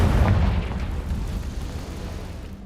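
A Confringo fire spell bursting in the Hogwarts Legacy video game near an Acromantula cave, a loud, deep rumbling blast that starts strong and slowly fades over a few seconds.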